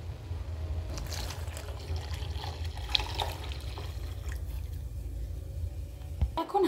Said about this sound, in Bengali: এবার আমি দিয়ে দেব দুধ।